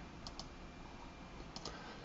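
Two pairs of quick, faint computer keyboard clicks tap out a shortcut over a low steady hum, close to the microphone with no one speaking.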